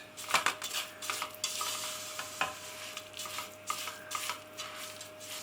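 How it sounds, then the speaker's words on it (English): A spoon stirs a sticky oats and honey flapjack mixture in a bowl, with soft scraping, repeated clinks against the bowl and a few sharper knocks at a steady unhurried pace, close and fairly quiet. "Just make sure all the oats are coated."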